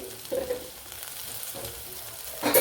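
A medium tomato drops into a pan of sautéed small onions and almonds, and a steady soft sizzle of frying follows, with brief stirring scrapes and a sharper hiss near the end.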